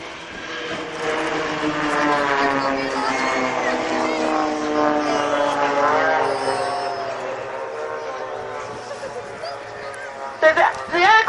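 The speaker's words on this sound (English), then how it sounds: "So the aircraft that the blades fly is the Extra 300, and it is purpose-built for aerobatics." Extra 300 aerobatic propeller planes fly in formation at an airshow, their engines droning loudly overhead with a rising and falling pitch as they pass, while a commentator talks throughout.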